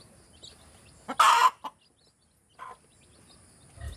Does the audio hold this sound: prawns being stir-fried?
no